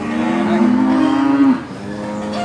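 Cow mooing at a cattle market in Ngunut, Tulungagung, East Java: one loud, close, drawn-out low moo lasting over a second, with market background noise around it.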